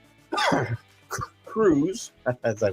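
A cough from an adult man with a chest cold, brief and close, set among his own speech.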